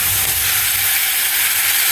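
Tomatoes frying in oil for a basil chutney, a steady broadband sizzle that holds at an even level for the whole stretch, close by with no voices.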